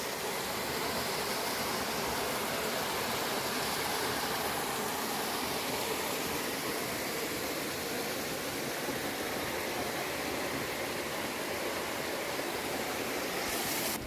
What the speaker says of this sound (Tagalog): I think it's a falls